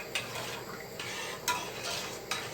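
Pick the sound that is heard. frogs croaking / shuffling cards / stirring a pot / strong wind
stirring a pot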